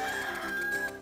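A chicken clucks and crows in Zelda: The Minish Cap, a short, bright, close cry with a steady tone and no one talking.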